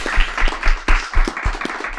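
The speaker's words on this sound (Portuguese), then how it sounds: "Uma salva de palmas, gente." Studio audience at a podcast recording applauding, a short stretch of scattered claps with uneven rhythm, fairly close.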